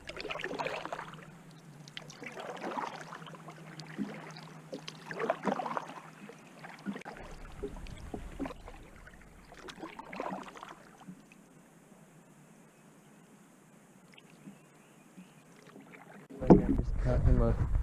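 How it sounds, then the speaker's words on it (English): A paddle dips and pulls through lake water as a kayak moves along, soft swishes and drips at close range, with someone speaking over the first part and a louder splash at the end. "But I'm going to go ahead and get paddling."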